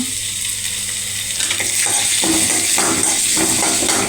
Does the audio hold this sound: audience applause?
no